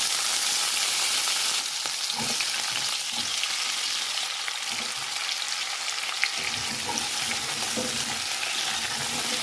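Potatoes frying in oil tempered with Bengali panch phoron five-spice and a pinch of hing, giving a dense continuous close sizzle with occasional soft stirring knocks and scrapes.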